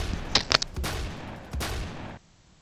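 Grenade explosions and gunfire in a Roblox video game: a few sharp close shots in quick succession, then two heavier blasts that roll on before cutting off to near silence.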